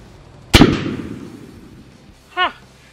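A single sharp gunshot fired at cans on an outdoor range cracks loud and close, then rings out in a fading tail; a short voiced sound follows near the end.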